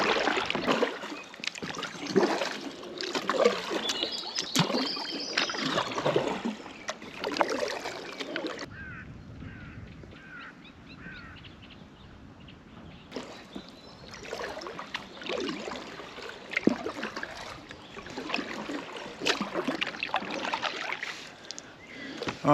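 A kayak paddled along a river: rhythmic, close paddle strokes and dripping water, with a quieter lull midway before the strokes resume, no talking.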